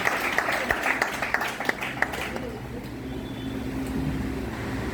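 Audience applause at an elder-honouring public gathering, a steady wash of clapping with sharp individual claps up front that thins into a faint murmur toward the end.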